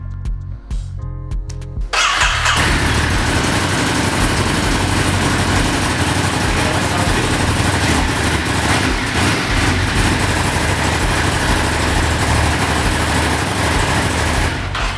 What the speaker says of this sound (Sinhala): ඕක තමයි ඩුකාටි බයික් වල සද්දේ.